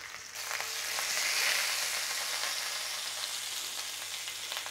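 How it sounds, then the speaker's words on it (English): The fat cap of a sirloin steak sears in a hot pan with a steady, loud sizzle and spattering fry that holds close and continuous throughout. "we're going to work the end cap, the fat, and sear it all around"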